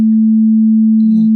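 A loud, steady low-pitched pure tone at 220 Hz hums continuously for about a second and a half, with a faint extra sound creeping in near the end.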